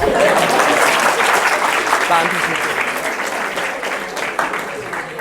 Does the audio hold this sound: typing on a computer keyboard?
no